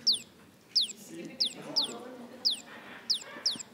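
A small bird calls with sharp, high chirps repeating at a steady, quick rhythm about every three-quarters of a second, close and clear, while people talk quietly underneath.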